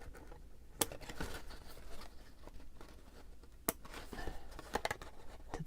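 Paper being cut with scissors at a craft table, faint soft snips and sharp clicks of the blades at scattered moments over a quiet background, with some light handling rustle.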